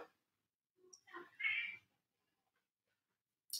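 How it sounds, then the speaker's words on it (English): Cat meowing near a swimming practice session: a couple of short, clear meows close by in a quiet room, with a brief bit of a voice at the very end. "Oh, there's a kitty."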